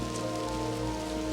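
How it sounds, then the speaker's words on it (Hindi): Steady rain pattering on surfaces at a car campsite in Jai Valley during a thunderstorm, a continuous even hiss with no voices. "बारिश पड़ रही है गाइस।"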